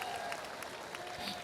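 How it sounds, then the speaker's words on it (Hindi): An audience at a kavi sammelan at Jamia Millia Islamia claps to welcome a poet, a dense continuous patter of hands from a sizable crowd. "आप स्वागत कम से कम ताली से ज़रूर कर दीजिए हमारे कवि महोदय का"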